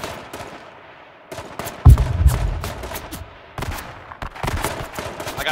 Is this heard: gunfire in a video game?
yes